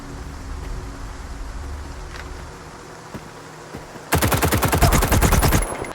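Rapid automatic gunfire from enemies in STALKER 2 erupts abruptly after a quiet ambient stretch, a loud dense burst of shots continuing for about two seconds.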